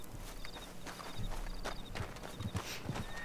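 Horse hooves in the video game Red Dead Online, a quiet clip-clop of walking hooves under steady ambient game noise with faint background tones.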